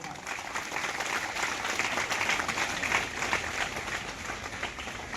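An audience at a school farewell ceremony breaks into continuous, even applause. Many hands clap at once, moderately loud and unbroken, with faint crowd murmur beneath.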